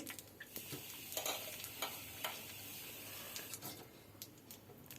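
Cumin seeds frying in hot mustard oil for a parshe fish curry, a faint steady crackle and sizzle with sharp spoon taps and scrapes, no talk heard.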